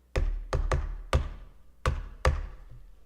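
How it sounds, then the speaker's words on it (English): Six sharp knocks on a palace door, arriving in uneven clusters, each with a short ringing decay, close and fairly loud. "there was a knock on the palace door."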